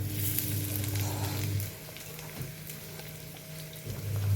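Food frying in a kadai gives off a steady, fairly loud sizzle, with a low bubbling hiss that eases a little midway and then swells again near the end. No voices.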